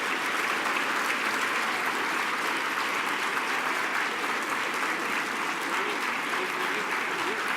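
An audience at an awards gala applauds loudly and continuously, a dense even wash of clapping from many hands.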